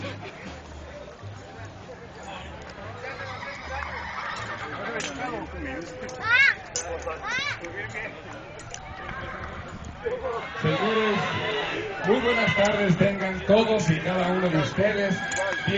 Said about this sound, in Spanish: No, pues un montón de caballos,